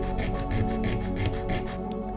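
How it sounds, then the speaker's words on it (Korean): Steady rhythmic rasping of sandpaper rubbing hardened resin, rounding a moon shape, close up, with repeated back-and-forth strokes that stop near the end. "달을 보니 약간 이쁜 것 같지가 않아서 사포로 갈아 더 동그랗게 만들어줍니다."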